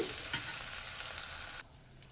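Shallots, tomato, ginger and garlic fry in a pan while being stirred, giving a dense, close sizzle with light scraping that cuts off abruptly near the end, leaving only faint room noise.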